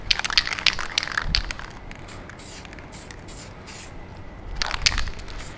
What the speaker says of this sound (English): when you're doing any kind of aerosol spraying